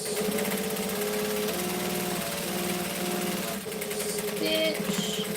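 Mitsubishi LS2 130 industrial plain sewing machine stitching steadily, a continuous close motor whir with a running needle rhythm that briefly dips before carrying on.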